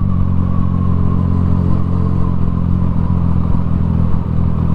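A motorcycle engine drones steadily during a night ride, a loud, constant low rumble with wind noise and no clear gear changes or pauses.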